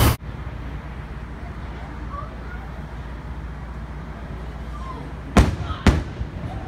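Fireworks viewed from a hotel near Disneyland pop in the distance: a thump at the start and two sharp bangs near the end over steady background rumble.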